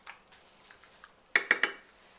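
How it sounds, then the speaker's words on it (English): A spoon stirring macaroni and cheese in a pan: after a quiet stretch, a quick cluster of three or four sharp metallic clinks and scrapes sounds close by. "we're going to stir this really well and get all the noodles coated with the cheese mixture"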